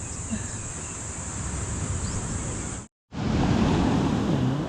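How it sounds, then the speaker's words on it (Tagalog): Steady wash of sea surf in Real, Quezon rolls on continuously with insects chirping faintly, broken by a brief moment of silence before the surf resumes. "Uy, dagat."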